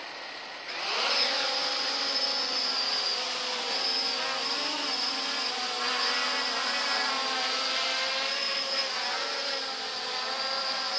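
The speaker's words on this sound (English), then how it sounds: "we got the 350QX with the Helifactor foldable three-bladed props spun up on the ground." Blade 350QX quadcopter fitted with Helifactor foldable three-blade props spinning up and lifting off, a steady loud whirring buzz with layered rising tones that waver slightly as it climbs and hovers close by, with no voices.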